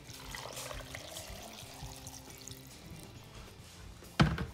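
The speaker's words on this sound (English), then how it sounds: "And now we're gonna add the vinegar." Vinegar poured into a jar of pickled eggs, a steady close splashing trickle running for several seconds before a sharp knock near the end.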